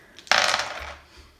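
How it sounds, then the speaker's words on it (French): Dice tumble and rattle in a short, close burst during a Zack and Pack board game, fading out after about a second. "Donc, un autre joueur va lancer les dés."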